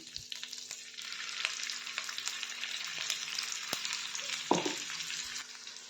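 Ground masala paste fries in oil with a steady, soft crackling sizzle throughout, broken by a few faint clicks and a brief scrape of a spoon near the end.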